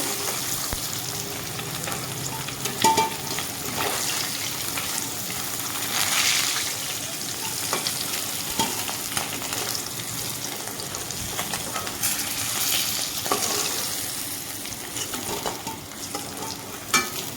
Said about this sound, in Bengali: সবগুলো এখানে লাল লাল করে ভাজা হয়ে গেছে তুলে নেব